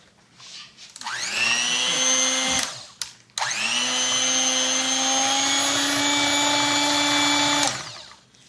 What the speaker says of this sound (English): So I'm gonna use the mixing machine.